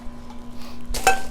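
A Saladmaster cooking pot is lifted out and handled, giving a short metallic clank and clink near the end after a quiet, humming stretch.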